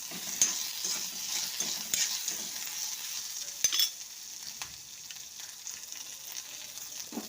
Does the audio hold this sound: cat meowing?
no